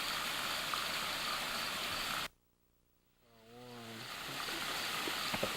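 Spivey Falls in Tennessee gives a steady broadband rush of falling water that drops out abruptly for about a second, during which a voice briefly speaks, then swells back to full strength.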